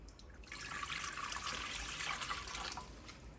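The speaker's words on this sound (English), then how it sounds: "I'm going to start out with 3 cups of water." About three cups of water pour steadily into a cooking pot for an emergency meal, a continuous splashing stream that runs for a few seconds before tapering off.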